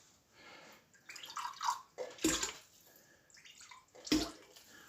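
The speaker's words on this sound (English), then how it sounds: "this is water from a spring that we get here" Spring water pouring and splashing in short bursts, with two louder gushes standing out against quieter trickling and dripping, close by and with no talk.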